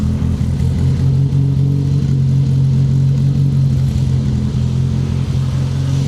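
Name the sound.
car engine running, tuned with SU carburettors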